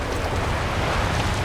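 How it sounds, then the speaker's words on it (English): Storm-driven Pacific surf crashes against boats and rocks in a loud, continuous roaring wash, mixed with wind buffeting. No voices are heard. "The waves are smashing our boats on top of us and on top of the rocks."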